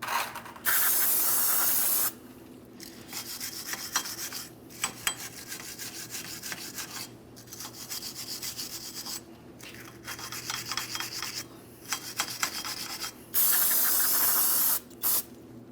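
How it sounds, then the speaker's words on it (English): Parts cleaner hisses out in several long spray bursts, and a wire brush scrubs in rapid rasping strokes across the wheel hub of a 2005-2010 Chrysler 300 5.7L V8, all close and loud. "Some parts cleaner and a wire brush will help."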